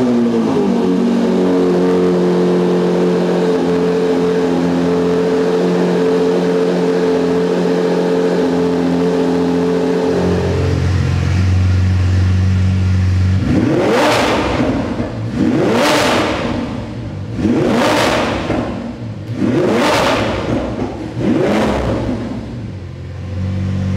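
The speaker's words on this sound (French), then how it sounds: "V12 Atmo Lambo plus ligne d'échappement Capristo." A Lamborghini naturally aspirated V12 with a Capristo exhaust idles with a loud, deep, steady rumble, then fires off five sharp, rising revs in quick succession, close and powerful.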